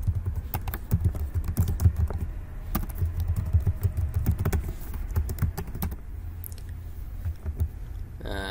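Code typed on a computer keyboard, a fast, uneven patter of close key clicks running throughout with brief pauses.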